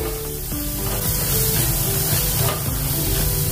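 Potato and eggplant for aloo baingan roast in a hot pan with a loud, steady sizzle and hiss, close up and continuous, with no talking.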